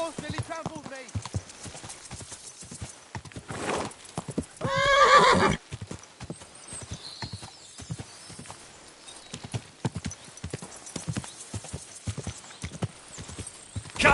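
Rhythmic hoofbeats clop steadily across the clip, with a loud horse whinny breaking in partway through; a voice briefly sounds near the start.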